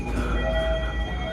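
Train pulling into the small Cipendei station in Indonesia on a Solo to Bandung economy service: a steady loud rumble of rolling cars with thin, sustained wheel squeals over it.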